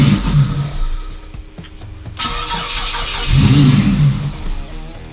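A 2008 Mitsubishi Eclipse with a no-start and stalling fault cranks with the throttle held wide open, the starter churning loudly and close before a brief rough catch and uneven engine noise follow; no talk.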